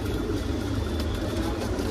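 Pure Punjabi pigeons coo together in a steady, dense murmur, a continuous low cooing from many birds kept close by, with no talk over it.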